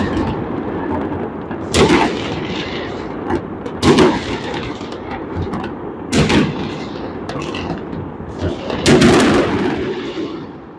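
Loud New Year firework explosions in Georgia, four big booming bursts spaced a couple of seconds apart over a continuous crackling, rumbling background of distant fireworks.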